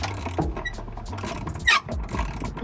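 An old 1999 bolt being worked loose on a Mazda MX5, with a scraping, creaking mechanical grind and a sharp squeak partway through, close up and moderately loud.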